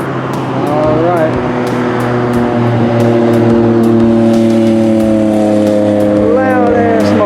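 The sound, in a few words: loud motorcycle passing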